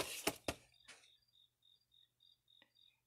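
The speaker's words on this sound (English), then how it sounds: "Sorry if you hear the crickets outside." Crickets outdoors chirp in short, evenly spaced high trills, faint and steady in the background after a few soft knocks at the start.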